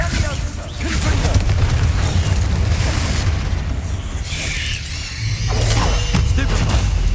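Blasting spell Confringo in the Hogwarts Legacy game bursts into a loud, sustained booming roar with rumbling crashes, dipping briefly before surging again, while voices speak over the din.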